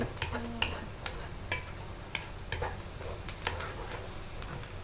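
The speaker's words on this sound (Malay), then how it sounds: "Okey, kita tumis hingga bawang ni layu." Onions sautéing in a pan for shepherd's pie, a steady soft sizzle with repeated scraping stir strokes and light utensil taps at moderate level, no voices.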